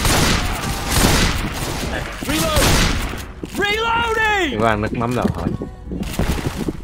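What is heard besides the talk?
fireworks in Left 4 Dead 2 video game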